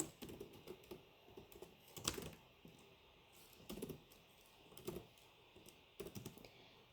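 Keystrokes on a computer keyboard while someone writes a logic programming rule, with irregular bursts of clicks and short pauses between them, close and fairly quiet.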